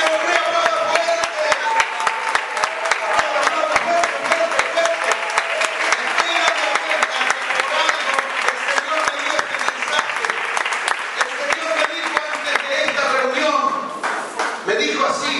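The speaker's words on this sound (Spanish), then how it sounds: "el que corre aplauda fuerte" Loud, sustained applause from a church congregation during a Pentecostal-style sermon, dense clapping filling the whole stretch with voices mixed in and no letup.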